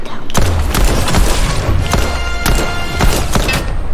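Pistol gunfire in Fortnite, a rapid string of sharp loud shots over a constant dense game din, close and repeated at irregular intervals.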